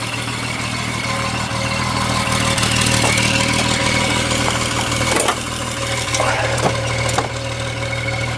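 Triumph car engine idling in storage while warming up, a loud steady close rumble with a constant low hum and a few mechanical clicks and knocks over the top.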